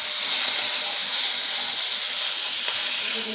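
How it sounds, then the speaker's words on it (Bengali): Hog plums frying in oil tempered with green chilli and black cumin: a steady, even sizzling hiss that fills the whole clip, fairly loud and close, with no talking. "আমড়াগুলোকে একটু ভালো করে ভেজে নিতে হবে।"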